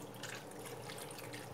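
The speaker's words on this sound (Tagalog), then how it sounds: "Tapos lagyan natin ng tubig na." Water running steadily into a cooking pot of sinigang with onion, ginger, tomato and salt, a faint continuous splashing pour with no talk.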